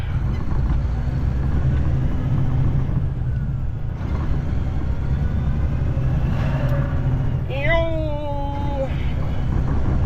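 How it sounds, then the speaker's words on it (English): A heavy truck passes on asphalt, shown as a loud, steady low engine rumble that fills the whole stretch, with a rising whine near the end, heard from close by. "Here comes the truck. Come on, baby, get moving."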